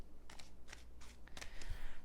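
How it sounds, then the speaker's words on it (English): Tarot cards are shuffled in a brisk series of riffling bursts, close and moderately loud, with no talking over them. "Three more shuffles, guys."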